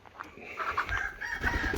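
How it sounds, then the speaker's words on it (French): Brahma chickens, two hens clucking and a rooster crowing briefly, somewhat distant, against low background noise. "Donc on a 2 poules et un coq."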